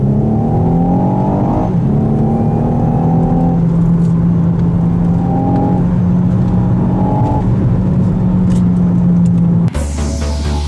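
A Renault Megane GT in sport mode accelerates hard on a winding road, its engine note climbing steadily and loudly for about ten seconds before cutting off abruptly. No one speaks.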